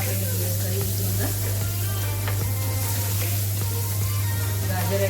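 Chopped onion hits a hot pan and sizzles loudly and steadily, close up, with occasional stirring scrapes and a constant low hum underneath.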